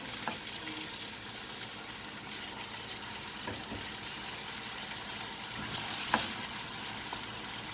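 Cabbage pieces and sausage fry in a pan with a faint, continuous crackling sizzle, broken by a few soft clinks and stirring noises, quiet and close with no speech.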